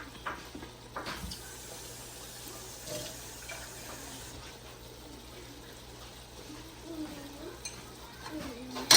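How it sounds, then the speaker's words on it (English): Water being added and stirred into chicken ball soup, a faint splashing and sloshing with soft sizzle and scraping under a low kitchen background, a voice faintly present. "Let me add this little bit water."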